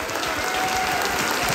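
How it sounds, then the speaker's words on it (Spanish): A church congregation applauding during a sermon, a short, dense wash of clapping filling the space without any voices. "Y ahora quiero que le dé un aplauso a Él."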